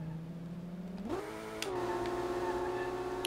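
Nissan 240SX with a 2JZ engine drifting in SLRR, its steady engine drone stepping up sharply in pitch partway through and then holding high and sustained, close and fairly loud.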